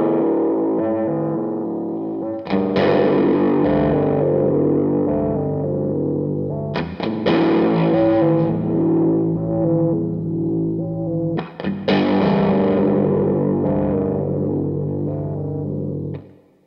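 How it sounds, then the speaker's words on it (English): Electric guitar run through a ring modulator whose frequency is stepped by a TheGigRig G3 MIDI sequencer, giving loud, distorted metallic sustained chords that shift texture, with three fresh strums spaced several seconds apart and no talking. "I'm going to step through some different frequencies for the ring modulator."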